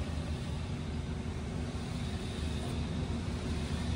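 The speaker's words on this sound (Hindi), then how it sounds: "जॉब फीडिंग वाले वॉइस की आगे पीछे वाली मूवमेंट दिखाओ मैनुअल मोड में।" An Amada HA-250 fully automatic bandsaw machine runs in manual mode while its job-feeding vise travels back and forth, making a constant low mechanical rumble and hum that stays steady and fairly loud, with no talking.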